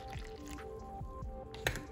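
Room-temperature water poured into a pizza dough mixture for Sicilian pizza, soft dripping and squishy splashes, close and quiet, with no talking.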